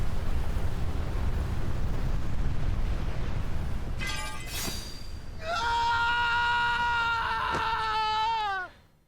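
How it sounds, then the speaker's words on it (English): A harsh, piercing scream rings out in a Kingdom Hearts game cutscene, rising loud and sustained over a few seconds after a sharp burst, then cutting off abruptly, heard alone without talk. "I forgot how freaking horrifying that scream is"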